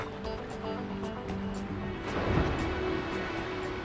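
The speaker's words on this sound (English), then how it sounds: "Heavy surf stirs up food." Heavy ocean swell and surf along a rocky European island coast, a steady broadband wash of breaking water that swells louder midway, with soft tonal music underneath.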